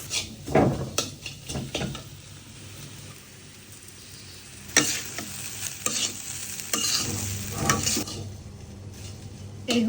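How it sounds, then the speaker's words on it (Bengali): Fried rice sizzling in a pan as it is stirred, with repeated scraping and clinking of a utensil against the pan over a steady frying hiss, close and fairly loud. "ভাত ভাজা করবো"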